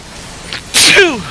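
A single sharp, close sneeze bursts out after a short inhale, loud and sudden, then trails off into a breathy tail.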